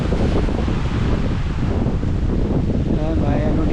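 Strong wind buffets the microphone in a loud, continuous roar near a fishpond area where milkfish are being weighed, with a faint voice under it.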